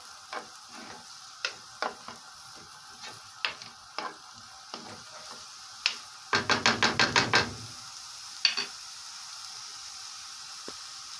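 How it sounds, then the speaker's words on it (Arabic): Half an onion sautéing in melted butter in a pan, a soft sizzle under a string of sharp spoon taps and knocks, with a quick rattling burst of stirring midway. "هدي البصلة تشويحة طبعا زي ما احنا عارفين، تشويحة بسيطة يعني"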